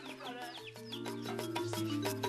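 Farm chickens cluck and call close by, a busy overlapping run of clucks and squawks over a steady background hum, with no talking.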